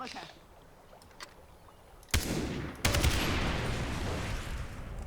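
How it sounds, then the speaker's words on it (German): Covering gunfire in Far Cry 3: after a quiet stretch, two loud bursts of shots break out near each other, followed by a sustained roar of rapid fire and combat noise. "Wir machen Feuerschutz."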